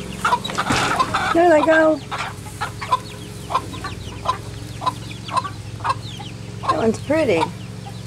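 A hen and her chicks let out into a coop, with clucking and chirping calls through most of the clip, loudest near the start and again near the end, while a person talks quietly in between.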